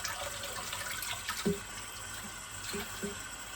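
Warm tap water running into a sink while cleaning a 3M half-face respirator mask, a steady soft splashing stream with a few brief louder gurgles and knocks, fairly close and without talk.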